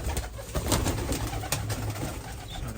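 Pigeons coo softly and steadily at a loft where young racing pigeons are being fed jaggery, the low murmuring rising and falling continuously over a faint background hiss.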